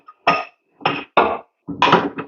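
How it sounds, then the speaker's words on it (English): Spent coffee puck knocked out of the portafilter of a Gemilai 3007L espresso machine: about five sharp, close thuds in quick uneven succession, the last two nearly back to back, with silence between. "the coffee puck knock out really easily"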